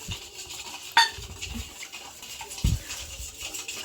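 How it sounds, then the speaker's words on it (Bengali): Spoon stirring sugar into water in a metal pot for sherbet, giving a few light scrapes and two sharp clinks against the side, close and quiet with soft kitchen noise between. "এই যে চিনি গোলা হচ্ছে"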